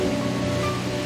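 Strong waves surge onto the East Sea shore at Yeongdeok in Korea, a dense, continuous roar of rushing surf. It is loud and steady throughout, with no voices.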